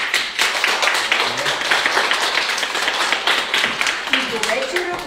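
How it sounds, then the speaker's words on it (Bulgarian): A crowd of children clapping for an Olympic wrestling champion, steady dense applause that fills the whole stretch, with an adult voice speaking over it near the end. "Нека да му ръкопляскаме."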